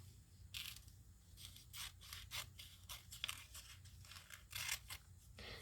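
Scissors snipping through a glossy magazine page to cut out a single word, a run of short crisp cuts and paper rustles close by, quiet and unhurried with no talking.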